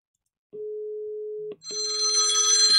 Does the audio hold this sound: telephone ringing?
yes